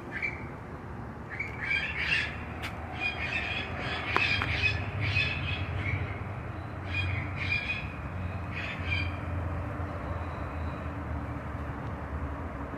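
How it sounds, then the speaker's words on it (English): Toucans at a zoo in Mexico give repeated harsh, rasping squawks in bursts over a low background rumble, with the calls fading out toward the end. "we just walked by some toucans"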